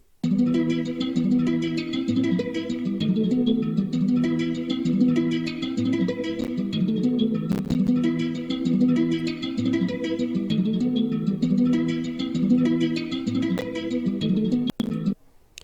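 A looping guitar sample plays steadily with a processed, slightly stretched tone, its notes repeating in a rhythmic pattern throughout, with no voices.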